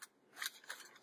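Small metal scissors are handled close by, giving a quick sequence of light snipping clicks and metallic scrapes within about a second, with nothing else audible.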